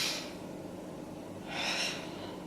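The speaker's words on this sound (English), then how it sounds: "Let's take a nice big breath here" A deep breath drawn in during a yoga pose, a close, soft breathy inhale at the start and a stronger airy exhale about a second later, over a quiet room.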